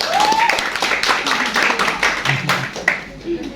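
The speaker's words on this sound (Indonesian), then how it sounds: "Kita bisa kasih tepuk tangan saya lagi ya." Audience applause at a school poetry reading contest, a sustained wash of many hands clapping with a few voices and a whistle-like call mixed in.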